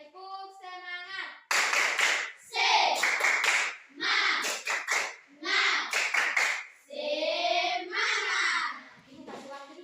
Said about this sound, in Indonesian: Oke, tepuk semangat dulu.